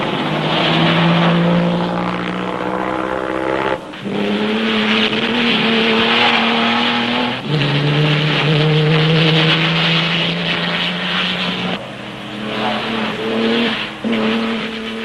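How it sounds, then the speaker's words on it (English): A vintage Bentley racing car makes a demonstration run, its engine droning loud and close and rising in pitch through several gear changes, with brief drops between them. "the evergreen Sammy Davis, senior of course, on Bentley. It is only a demonstration drive"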